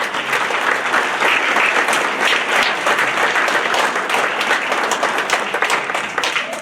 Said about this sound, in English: So please give a round of applause for all those people.